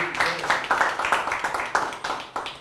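An audience claps for Captain Digendra Singh, a Kargil war hero, at a Kargil Vijay Diwas event. The applause is close and uneven, with individual claps clearly audible in a ragged rhythm, while a voice speaks over it.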